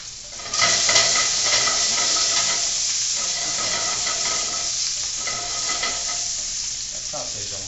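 Sausage and red onion sizzle steadily in a pan, a close, even frying hiss that swells in shortly after the start and holds at a constant level without speech.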